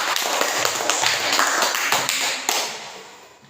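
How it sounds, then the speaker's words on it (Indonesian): A classroom of students claps together in dense, rapid applause that holds steady and loud, then fades out toward the end. "Bagus, tepuk tangan."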